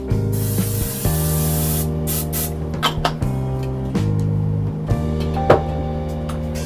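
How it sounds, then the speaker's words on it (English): Great Value canola non-stick cooking spray hisses onto a pan in an opening burst, then short spurts and clicks follow over a steady musical background. "Let's spray our pan."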